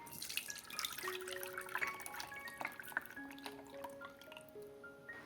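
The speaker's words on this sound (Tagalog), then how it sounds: "Salain ho natin para maging smooth yung kalalabasan ng ating kutsinta." Ube kutsinta batter pouring and dripping through a strainer, heard close as a run of small liquid plinks and trickles, with no voice over it.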